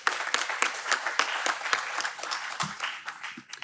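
Audience applause at an integrated photovoltaic conference, a room of people clapping with distinct, fairly close claps forming a lively patter that thins toward the end.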